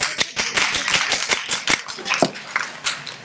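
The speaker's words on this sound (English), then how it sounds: "give me an applause" An audience at a university ceremony gives a brief, scattered round of clapping, individual claps distinct and uneven, fairly close and moderately loud.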